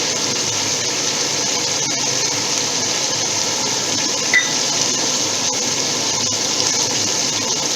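Water poured into a pan of ridge gourd curry with prawns and poppy seed paste, a continuous loud gushing stream for several seconds without any voice.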